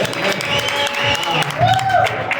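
Crowd applause at an event for J. Prime and Rocky, a sustained burst of clapping with voices and cheers mixed in throughout.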